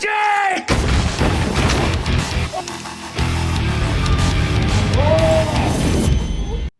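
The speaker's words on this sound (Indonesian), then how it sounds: "dengan cepat Rex menembak perampok itu, dan tanpa sengaja senjata yang dipegang oleh perampok itu ternyata menembak ke arah lemari" Gunfire fills an action film bank robbery scene, with a man shooting a robber whose gun discharges into a cabinet. Loud, dense bursts of shots and crashes run continuously under a swelling soundtrack, cutting off abruptly at the end.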